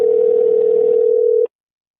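A single steady telephone ringing tone on an outgoing call, loud and clear, holding one pitch for about a second and a half before cutting off abruptly into silence.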